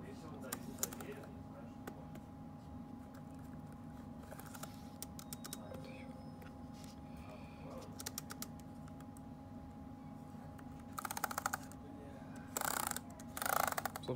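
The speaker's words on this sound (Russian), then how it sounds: "с помощью программы KeyTest мы можем проверить работоспособность клавиатуры" Computer keyboard keys tapped during a KeyTest check, scattered light clicks over a steady electrical hum, with a few denser bursts of rapid typing near the end.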